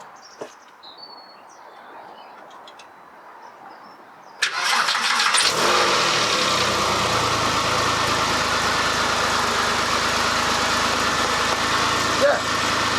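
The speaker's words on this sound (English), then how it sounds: "I need to start it to make sure it actually fires" A Porsche 996 engine, just fitted with rebuilt coilpacks, cranks and catches after a few seconds of quiet outdoor ambience with birds, then settles into a steady, loud, close idle.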